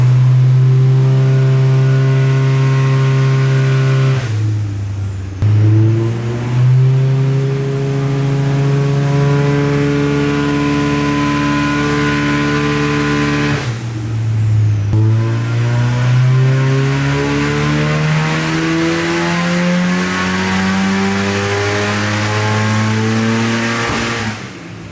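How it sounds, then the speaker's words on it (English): A built Nissan S15 engine revs hard through repeated dyno pulls, loud and close, with rising harmonic sweeps climbing in pitch, brief drops near five and fifteen seconds as it shifts or backs off, then pulling again. "she's going back on the dyno now"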